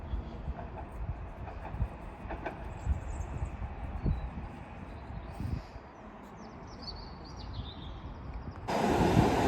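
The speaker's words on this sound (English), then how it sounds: "Departing now is the Tyne Metro service off to St James's" Tyne Metro train pulling out of a station on the Northumberland line, a moderate rumbling roll with faint bird chirps over it and a brief louder burst of noise at the end.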